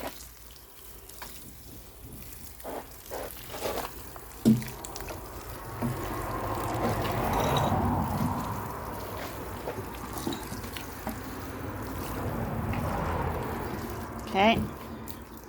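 Water runs from a hose onto tomato plants inside a polytunnel, a soft steady spray with splashing that swells and fades, alongside occasional knocks and handling noises and a person talking over it.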